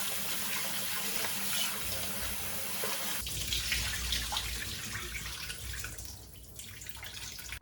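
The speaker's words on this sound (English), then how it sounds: "First, wash the chicken hearts, livers, and gizzards clean." Chicken hearts, livers and gizzards being washed under a running kitchen tap, a steady close splashing gush of water that shifts in tone as the offal is moved about in the stream.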